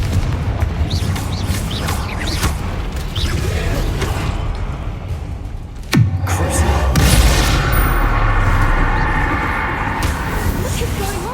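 Fiery Confringo spell blasts in Hogwarts Legacy go off amid combat, with a sharp explosive crack and booming whoosh midway over a rumbling, clattering battle bed, and a voice speaking through parts of it.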